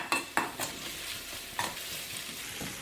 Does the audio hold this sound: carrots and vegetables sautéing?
yes